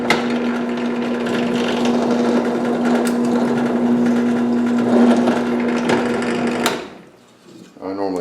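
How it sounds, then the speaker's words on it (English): A drill bores a hole through a knife handle scale, a steady high motor whine with a grinding bite into the material, then it winds down and stops near the end. "Drill a hole."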